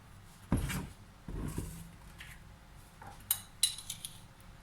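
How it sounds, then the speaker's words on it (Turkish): A metal tablespoon adds heaped spoonfuls of flour to milk in a cooking pot, making a few close, quiet clinks and taps against the rim with short gaps of near silence between them. "Şimdi 3 tepeli yemek kaşığı da un ekleyeceğim."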